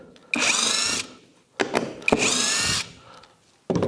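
A power drill unscrews a screw from a wooden packer piece in two whirring bursts about a second long, with clicks and handling knocks between them, close and fairly loud with no talk.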